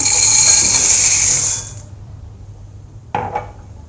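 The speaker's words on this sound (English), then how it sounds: "I'll be putting the macaroni in the bowl" A brief rattling clatter of dry macaroni pouring into a bowl, followed by quiet, then a short rustle near the end.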